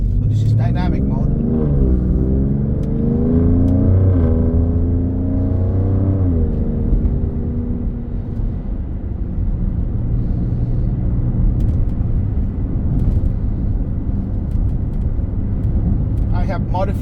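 An Alfa Romeo Stelvio Quadrifoglio engine with modified open exhaust rumbles loudly up close, revving and shifting through gears before settling into a steady deep drone, with a voice talking over it.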